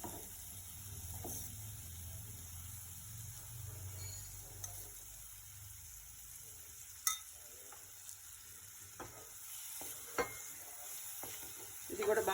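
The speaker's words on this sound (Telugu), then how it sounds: "ఇది కూడా బాగా కలిపేసుకొని ఇంకొంచెం 2 నిమిషాలు బాగా ఫ్రై చేసుకోవాలి" Yogurt masala for pool makhani kurma fries in a pan with a steady, hissing sizzle, close and moderately loud, broken by a few scattered clicks of stirring and no voices.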